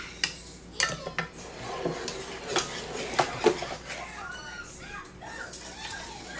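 A metal whisk stirs a homemade ice cream mixture in a pan with irregular clinks and scrapes against the metal. Faint voices are heard in the background.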